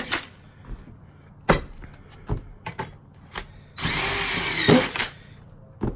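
A power drill drives screws into deck boards using a Camo hidden-fastener drive, with several short whirring bursts and a longer sustained run near the end, close and loud, with no talk.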